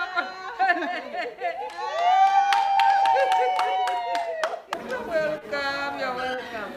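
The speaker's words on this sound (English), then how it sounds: "Sounds of cheer, applause and celebration filled the school" A crowd claps and cheers in scattered bursts while voices chatter over the top, with sharp individual claps cutting through.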